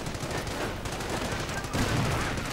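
Heavy machine gun fire in a real-time strategy war game cuts down charging infantry, a quiet, dense stream of rapid shots blending with distant battle noise.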